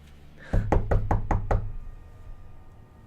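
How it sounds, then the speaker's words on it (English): About five sharp knocks on a door come in a quick even series, loud and close, then fade into a quiet room tone with no talking. "what a perfect time for there to be a knock at the door"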